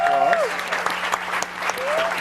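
An audience gives a moderator a loud round of applause, dense clapping throughout with a voice speaking over it at the start and end.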